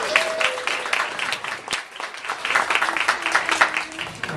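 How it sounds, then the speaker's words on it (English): An audience at a comedy and magic club breaks into applause, a dense patter of many hands clapping that swells and dips across the room, with a faint voice beneath it. "By a round of applause."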